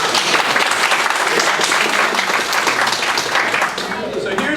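An audience at a Sunday Assembly gathering breaks into dense, loud applause. The clapping is steady and enveloping, mixed with cheering voices, and holds for several seconds before easing slightly at the end.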